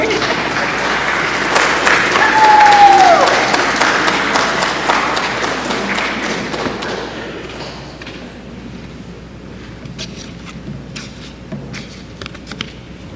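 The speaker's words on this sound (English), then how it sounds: "you can clap louder than that." An audience at a baccalaureate ceremony applauds with sustained clapping that swells, then gradually thins to scattered claps toward the end.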